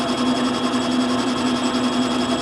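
A metal lathe turns on a DIY outboard lathe spider job, giving a steady, close, whirring hum with a faint tonal whine that runs evenly throughout.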